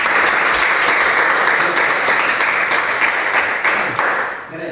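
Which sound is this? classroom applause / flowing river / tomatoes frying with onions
classroom applause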